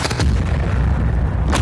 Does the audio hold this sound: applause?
no